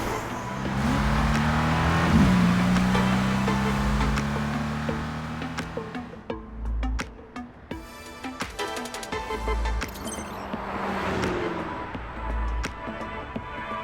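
A car in the video game Love and Deepspace accelerates hard during a midnight street race, the engine revving loudly and rising in pitch, then settling into rougher, pulsing engine noise with other cars around.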